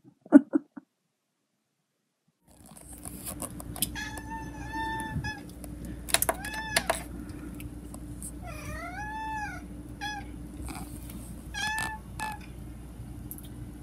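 Frankie, a house cat, meows repeatedly up close over a low steady indoor hum, a run of drawn-out rising and falling mews and a few shorter chirps, after a brief soft noise and a quiet gap at the start.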